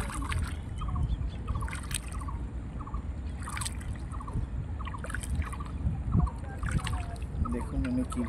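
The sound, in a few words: small boat being rowed on a river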